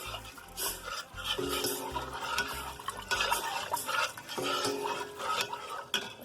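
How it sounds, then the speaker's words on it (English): A spoon stirring roux and stock in a soup pot for potato-leek soup, with continuous scraping and sloshing of liquid and occasional clinks against the metal pot, close and steady. "And as soon as you add half your stock, stir it around a little bit"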